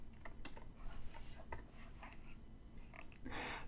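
Computer keyboard typing while renaming a layer in a digital illustration program, a run of quick, light key clicks in irregular bursts, close and clear, with a short scrape near the end.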